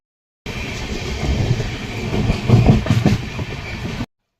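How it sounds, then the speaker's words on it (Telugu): A passenger train on the Hyderabad to Vasco da Gama route rolls along with a steady rumble and rhythmic wheel clatter heard from inside, swelling louder midway before easing back. "సో చూస్తున్నారు ఫ్రెండ్స్ మన ట్రైన్ జర్నీ అయితే స్టార్ట్ అయింది"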